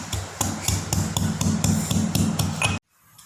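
Garlic and ginger are pounded in a mortar with steady, evenly spaced thuds, about ten firm strikes in a regular rhythm, close and alone, before everything goes abruptly quiet.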